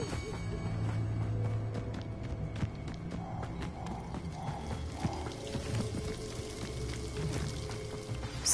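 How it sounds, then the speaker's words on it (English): Waterfall in a fantasy video game, a steady, moderate rush of falling water with light footsteps and faint tonal game music over it. "The waterfall."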